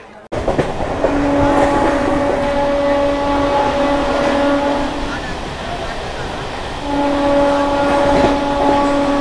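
A Howrah to Purulia local train rumbles steadily at Janai halt, with a loud continuous hum and a sustained tonal whine that drops away midway and returns, under a busy, close crowd.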